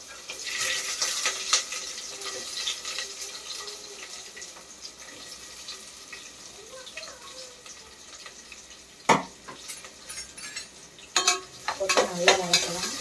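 One medium onion sautéing in hot oil in a pan for chicken biryani, a steady sizzle with stirring scrapes, then sharper clanks and louder stirring near the end.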